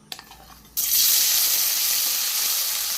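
Egg-made paneer is dropped into hot oil, and after a quiet moment a loud, close, hissing sizzle bursts in suddenly and holds steady to the end.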